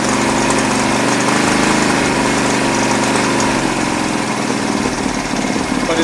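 A 1975 Honda CB200T twin-cylinder motorcycle engine runs steadily at idle, loud and close with an even throbbing rumble and no talk.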